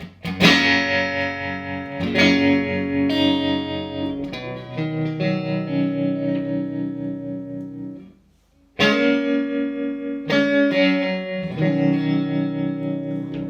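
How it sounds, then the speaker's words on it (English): An electric guitar plays chords and single notes through a Roger Mayer Voodoo Vibe pedal, with a wavering, pulsing vibrato effect, loud and close, pausing briefly before continuing. "I'm going to change the setting of the vibrato so that we can hear it more."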